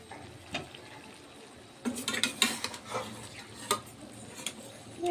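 Raw chicken pieces dropped by hand into a cooking pot with potatoes already in, giving a few soft clattering knocks and a brief sizzle against faint kitchen background, no talking.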